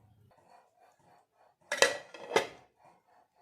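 A metal lid set down on a pan of Punjabi-style masala cooking for palak paneer: two quick clattering metallic knocks close by, with faint kitchen noise around them and no talking.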